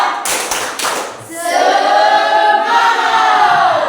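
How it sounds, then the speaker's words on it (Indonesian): A group claps out the rhythmic 'tepuk semangat' encouragement routine: a quick run of sharp, close claps, followed by sustained voices chanting together in unison. "Sekarang coba tepuk semangat"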